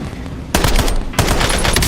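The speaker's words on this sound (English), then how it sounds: "Taking effective fire." Video game gunfire on a battlefield: two loud, close automatic bursts of rapid shots, each cutting in abruptly and rattling on, with a brief lull between them.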